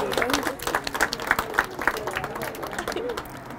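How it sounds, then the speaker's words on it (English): An outdoor crowd at a Christkindle Market claps for two organizers in a loose, uneven round of applause, with chatter and bird calls mixed in underneath. "let's give another applause to Christina and Daisy"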